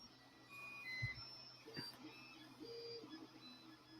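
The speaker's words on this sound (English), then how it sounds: "It's my 3D printer." Short electronic beeps and tones ring out intermittently from a nearby 3D printer, with a faint background hum and a brief thump.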